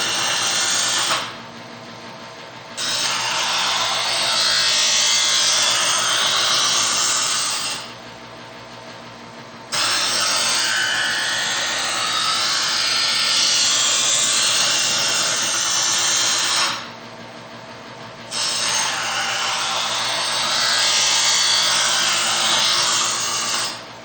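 A countertop electric knife sharpener grinds a blade in three long passes, each a steady, loud abrasive whir broken by short pauses between strokes, with no voices.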